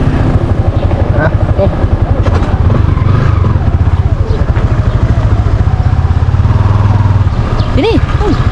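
A motorcycle engine runs steadily and close up with a fast, even throbbing pulse, while voices talk over it.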